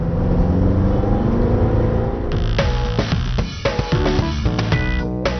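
A Mercedes B180 CDI diesel accelerates from low revs, its engine note rising steadily and loud, then shifting as gears change, with whirring mechanical sound and no talk.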